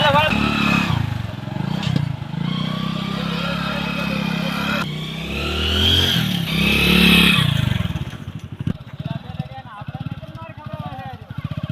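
A motorcycle started in a village, its engine rumbling and then settling into a rapid, uneven putter near the end, while people shout and talk loudly over it.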